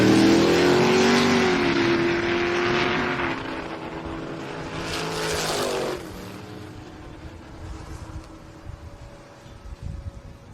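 A loud engine roars and revs as a 1941 Willys pickup truck speeds past on a drag strip, then fades into distant rumbling and scattered noise.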